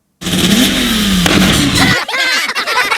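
Nissan R32 GTR tuned toward 1,000 horsepower revs hard on a dyno, a loud sustained engine roar that climbs then breaks into choppy bursts near the end.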